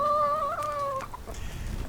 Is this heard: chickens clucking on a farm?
yes